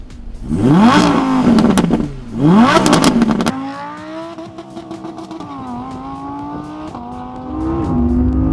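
A V10 supercar engine screams up toward 8,750 RPM in two rising howls, then settles into a loud, wavering high-pitched drone at speed, heard alone.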